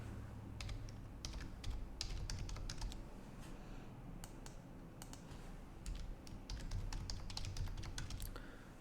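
Someone types on a computer keyboard while coding in C#, with irregular clusters of soft key clicks over a steady low hum, close and moderately quiet, without talk.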